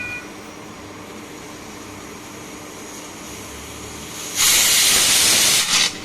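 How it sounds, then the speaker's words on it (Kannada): A pressure cooker cooking potatoes for palya lets out a loud, hissing steam whistle that bursts in late and holds for about a second and a half, after a quieter steady hiss. "ನೋಡಿ, 1 ವಿಸಲ್ ಬಂತು. ಇವಾಗ ಇನ್ನೊಂದು ವಿಸಲ್."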